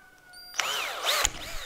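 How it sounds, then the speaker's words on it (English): A power drill bores pilot holes through wooden planks for a gripper strip frame, a short whirring burst that starts after a quiet pause, with a pitch that rises and falls as the bit works through the wood. "Pre-drill two holes on the long plank and make sure it goes into the other plank as well."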